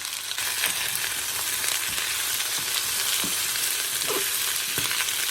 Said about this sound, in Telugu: ఉల్లిపాయ బాగా వేగింది, కొన్ని వెజిటబుల్స్ వేసి బాగా తిప్పాలి.